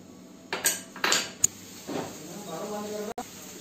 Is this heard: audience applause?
no